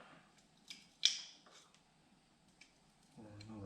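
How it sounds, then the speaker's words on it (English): Cutters snipping during fuel system work on a Cub Cadet 1864 lawn tractor, a few quiet close clicks, one sharper than the rest, with a voice starting at the end. "Or another snip."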